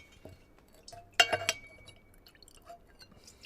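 Whisky drawn from a cask with a valinch and let into a glass in a distillery warehouse, giving soft drips and a brief splash with a glassy clink around the middle, close and fairly quiet.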